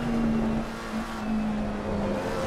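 Race car engine in Assetto Corsa Competizione drones at steady high revs under power, a continuous close mechanical tone with slight shifts in pitch and no talk over it.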